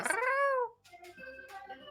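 A cat gives one clear, drawn-out meow close by, then a few shorter, softer cries follow, with no talking.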